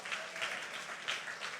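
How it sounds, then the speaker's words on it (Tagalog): A church congregation claps together at a charismatic worship service, steady dense applause from many hands that swells in soft waves and holds at a moderate level with no talk over it. "Pumalakpak ang tunay na anak ng Diyos."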